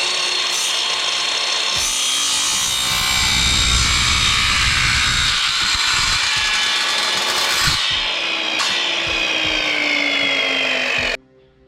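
A power tool cuts metal parts for a roof mount on a houseboat, a loud, steady grinding rasp running nearly throughout with shifting pitch, then stopping abruptly near the end.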